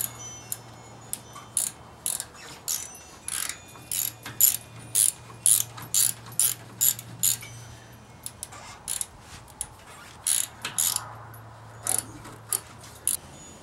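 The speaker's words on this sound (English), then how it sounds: "Reach down with your handy dandy wrench until it seats onto the plug" A ratcheting wrench works a spark plug loose during an ignition tune-up, giving repeated short clicking ratchet strokes in bursts, close and distinct over a low background hum, with no talk.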